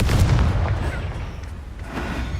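A Confringo fire-blast spell goes off in the Hogwarts Legacy game, a heavy booming burst with rumbling low-end that rolls and decays over a couple of seconds, followed by a second, smaller thud.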